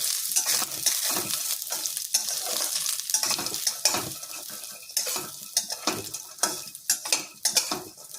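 Lentil dumplings (bori) frying in oil for a drumstick curry while being stirred, with loud sizzling and repeated scraping knocks of a spoon against the pan in an uneven rhythm, close by.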